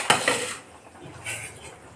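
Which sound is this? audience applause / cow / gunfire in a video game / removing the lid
removing the lid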